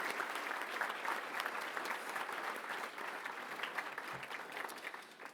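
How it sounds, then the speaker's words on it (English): A lunch-session audience gives award winners a round of applause, steady, dense clapping from a crowd at moderate distance that carries on without a break. "Let's give all of our award winners another round of applause."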